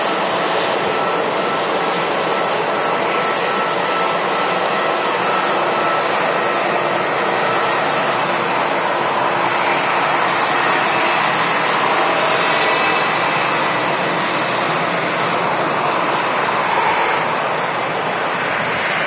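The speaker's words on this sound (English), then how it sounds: "we do have an arriving aircraft. It's a Ryanair 737-800 from Milan." An arriving Ryanair Boeing 737-800 jet on approach to Manchester Airport gives a steady, loud, broadband engine roar that holds unbroken for nearly twenty seconds, with no voices over it.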